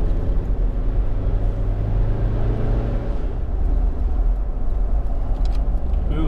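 Two dirty four-wheel drives on a road trip in Tasmania, a steady low engine drone and road rumble heard from inside the vehicle, continuous and fairly loud with no talk.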